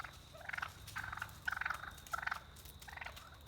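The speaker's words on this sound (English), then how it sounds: "the turkeys have been great for the plants" A group of turkeys roaming among tea plants in Tarboro gobbles in repeated rapid rattling bursts, fairly close, one call after another over quiet outdoor background.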